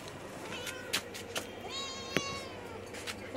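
A cat meowing indoors on a hot day, several short faint mews scattered over low background noise, with a person speaking softly nearby.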